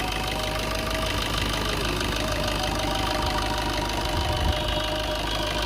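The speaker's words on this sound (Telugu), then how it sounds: "ఇంజిన్ సౌండ్ అయితే ఈ విధంగా ఉంది." A 2018 Maruti Suzuki Baleno diesel car idles with a steady, even rumble and a faint rhythmic diesel knock, close and continuous, with no talking.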